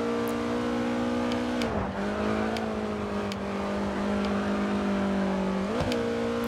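A race car engine in the racing game Grid 2 revs hard and steadily at close range, with the pitch dipping and climbing again at two gear shifts.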